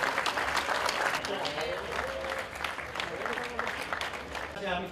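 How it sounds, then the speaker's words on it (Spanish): An audience applauds at the podium of a ham-carving championship, with steady hand-clapping that rises and falls while voices talk over it. "Aplausos."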